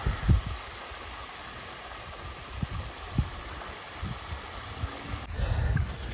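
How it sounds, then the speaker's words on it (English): A small waterfall in a park on an autumn day, its steady rush and splashing running as a constant wash, with a few soft thumps of handling noise and a louder burst near the end. "And then there's this waterfall here. I'm gonna zoom in on little waterfall."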